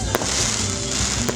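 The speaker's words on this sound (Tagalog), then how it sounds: "Gitapos ang reenactment sa sugat pinaagi sa fireworks display." Fireworks boom and crackle at the close of an Easter reenactment, a dense, loud burst of pops and rumbling filling the whole moment.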